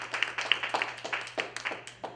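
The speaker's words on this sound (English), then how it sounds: "So give yourselves a round of applause for sitting in these seats right now." Small masterclass audience clapping briefly, a sparse, uneven run of distinct handclaps close by over a steady low hum.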